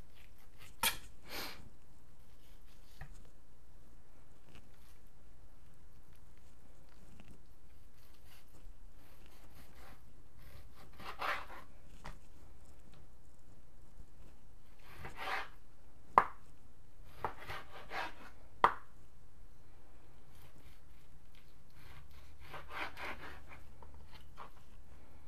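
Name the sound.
knife cutting stew meat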